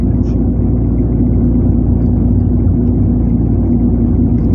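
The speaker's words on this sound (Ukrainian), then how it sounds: "Це дизель, це не бензин." A diesel car engine drones while driving at low speed, a steady loud low rumble that stays even throughout with no voices on top.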